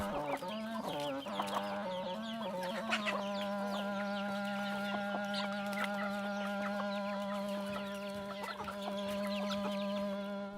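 Chicken clucking repeatedly at close range, a steady run of clucks and cackles over a sustained tonal hum, with no voices.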